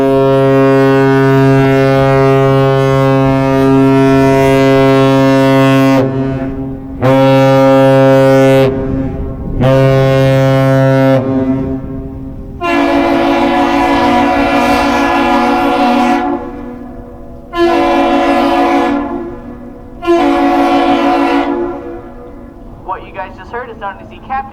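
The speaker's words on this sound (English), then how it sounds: "It is 1 long and 2 short blasts of the horn, initiated by the bridge, and then initiated by the American Century" The lake freighter American Century sounding its deep foghorn-like ship's horn in a Captain Salute while departing icy Duluth: long and short blasts in a loud repeating pattern, answered by a further series of blasts.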